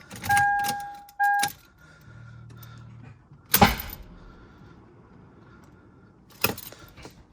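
A Lexus IS300 engine is given a quick starter bump in 5th gear with a timing belt job underway, a sharp loud mechanical burst standing out amid workshop clatter and a few jangling keys.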